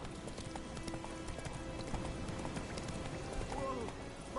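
Roach, Geralt's horse in The Witcher 3, gallops with quick, rhythmic hoofbeats, a quiet, steady drumming under game sounds and a voice.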